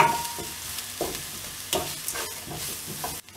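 Grated ginger and garlic sautéing in a pan for potato masala: a steady close sizzle broken by several scraping stirs of a spoon against the pan, no voices.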